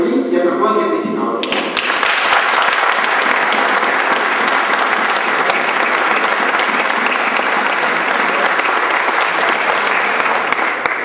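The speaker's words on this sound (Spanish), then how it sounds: "démosle un aplauso a Santiago" A crowd at a livestock fair breaks into loud, sustained applause right after a brief spoken phrase. The dense clapping holds steady and close for about ten seconds.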